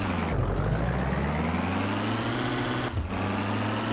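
A vehicle engine runs steadily with a low droning hum that climbs slightly in pitch as revs build, close and continuous, with a brief dip near the end.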